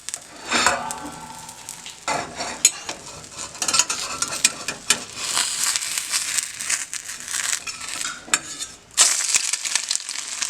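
Food sizzles and fries in a stainless steel pan, with scraping and stirring noises and a few sharp clanks of a utensil against metal.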